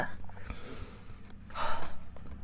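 A single person breathing deeply, with a sharp intake near the start and a longer, louder breath toward the end, close and audible in a quiet space with no talking.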